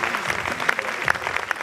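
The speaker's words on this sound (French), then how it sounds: "Vous pouvez applaudir." Audience applause at a fashion show of garments made from old cloth, a short burst of dense, steady clapping at moderate distance with a few sharper claps standing out.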